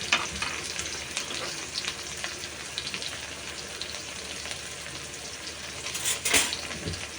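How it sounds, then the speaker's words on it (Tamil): Small shallots frying in hot oil, a dense, steady crackling sizzle like light rain, close and fairly loud, with a sharper burst of spatter near the end; no talking. "இப்போ சின்ன வெங்காயம் பாருங்கள் நல்லா பொரிய ஆரம்பிச்சிருச்சு."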